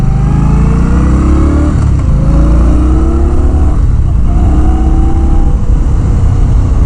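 A 2019 Indian Scout Bobber motorcycle engine drones loudly and steadily while riding, with rising and falling pitch as it accelerates through the gears, close up with heavy wind roar and no talk.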